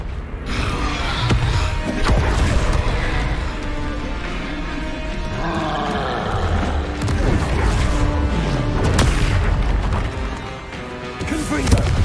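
Confringo fire spell blasts in Hogwarts Legacy combat, heavy booming impacts and crashes layered over a dense, loud game soundtrack, with bursts recurring across the stretch and a louder hit near the end.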